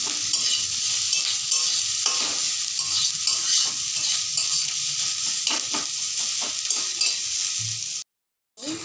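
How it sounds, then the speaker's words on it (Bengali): Chopped onion and garlic fry on a low-medium flame, giving a continuous close sizzle broken by repeated spatula scrapes against the pan, with a brief silent gap just before the end. "এবার এটাকে লো মিডিয়াম ফ্লেমে রেখে একটু সময় ভাজবো।"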